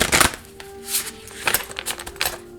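Oracle cards being shuffled during a tarot card reading, heard as several quick papery riffles and soft slaps in bursts over a faint steady background tone, with no talking.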